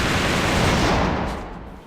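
Dense, rumbling gunfire and explosions from the shooter game AVA, a loud continuous burst that fades slightly toward the end.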